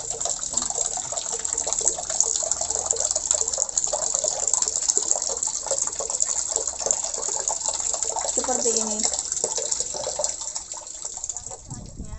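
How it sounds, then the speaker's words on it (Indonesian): A plastic bottle and its cap pushed under water to fill it completely, giving a steady rushing, bubbling gurgle with a brief rising glug near the end; a voice speaks briefly. "Langkah berikutnya, mengisi botol dengan air penuh. Supaya penuh, botol dan tutupnya dimasukkan ke dalam air."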